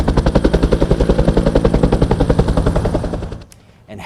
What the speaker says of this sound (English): And helicopter water drops doused 2 small fires that broke out in the same location in Chula Vista.